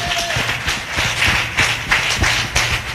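Congregation clapping in a church service, a dense, loud run of hand claps with a rough rhythmic pulse, with no talk over it.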